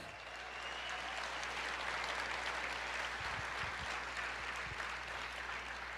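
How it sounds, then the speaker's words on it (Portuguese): A church congregation applauds during a packed revival-themed service, steady dense clapping filling the room from start to finish, with some low rumbling thumps near the middle. "Você pode aplaudir o Senhor"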